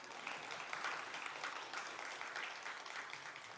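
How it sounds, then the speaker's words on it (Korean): A church congregation applauds during a Wednesday worship service, a steady wash of many hands clapping at moderate, fairly distant level, holding evenly for a few seconds without voices. "박수 한번 쳐주세요."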